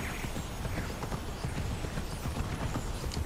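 Horse hooves clip-clop at a steady trot while riding in Immortals Fenyx Rising, a continuous rhythmic patter sitting close and fairly even throughout, with faint game ambience underneath.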